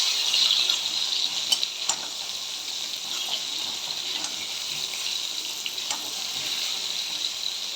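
Potatoes and eggplant fry in a pan with a steady, bright sizzling hiss, with occasional soft pops and clicks throughout, close and continuous, without speech.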